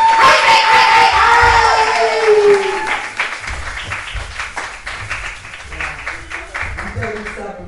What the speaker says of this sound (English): Can you please give a round of applause for 718 Sage?